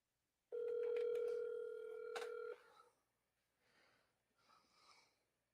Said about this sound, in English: Still need to dial.